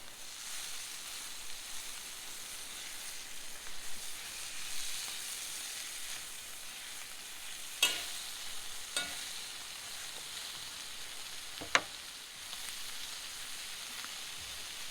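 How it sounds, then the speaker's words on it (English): Jalapeño peppers frying in melting butter make a steady close sizzle and crackle, with a few sharp pops and utensil clicks, no talking. "Peppers are cooking."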